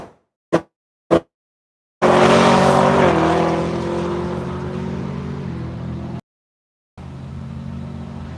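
A race car on the track at the One Lap of America event, a loud engine roar that sweeps past and fades. The roar is preceded by two brief knocks, then drops out and returns faintly.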